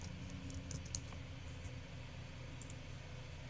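Soft, quiet keystrokes tap out in short bursts on a computer keyboard against a faint steady background hum.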